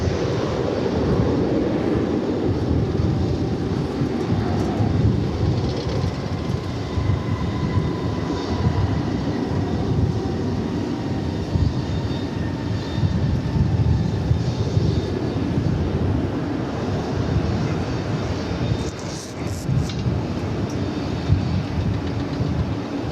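Jet aircraft engines rumbling at DFW Airport, a broad, sustained roar that holds steady for over twenty seconds, heard from a distance with no talk.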